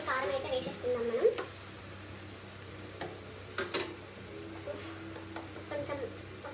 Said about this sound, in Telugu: సో ఇవి కొంచెం ఆల్మోస్ట్ మనకి క్యారెట్ పొటాటో కొంచెం ఆల్మోస్ట్ ఫ్రై అయిపోయింది